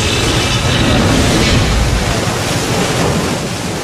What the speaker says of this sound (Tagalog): Walang patawad ang paghampas ng alon sa seawall sa Barangay Alegria sa Ormoc City.